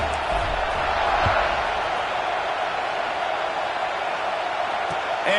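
Football stadium crowd before kickoff, a steady roaring wash of cheering and crowd noise from a large audience, with a couple of faint thumps early on.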